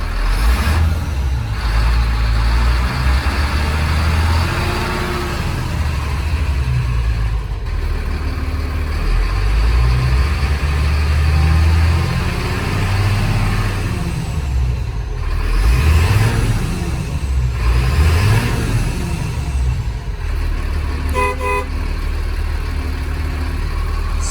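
A 2004 Thomas FS65 school bus engine runs close by with a steady, loud diesel rumble and idle throughout, with faint mechanical ticks and a brief beeping near the end.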